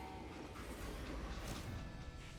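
A freight train rumbles along steadily in the Western video game Call of Juarez: Gunslinger, giving a continuous low rolling drone with faint rail clatter at moderate distance.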